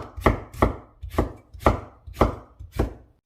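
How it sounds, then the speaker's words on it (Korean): Onion cut into thin strips on a cutting board with a knife, six crisp, evenly spaced chopping knocks, close and loud, with no voices. "양파를 채를 썰어줄 거예요."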